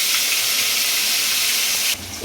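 A ground paste of ginger, garlic, onion and cumin hits hot oil with a loud, steady, hissing sizzle that holds evenly, then drops slightly near the end.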